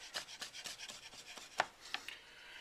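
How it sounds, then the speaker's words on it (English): Knife mincing mashed garlic on a wooden board, a faint, quick series of soft rhythmic chops and scrapes, close up. "Mash the garlic, and then you're going to want to mince it."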